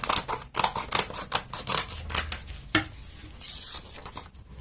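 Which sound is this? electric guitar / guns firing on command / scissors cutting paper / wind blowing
scissors cutting paper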